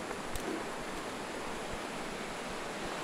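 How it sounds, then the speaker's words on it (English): Swollen river in Sumatra after rain, rushing steadily as a dense, even roar of water heard from a distance, with no voices. "It sounds like a lot of water."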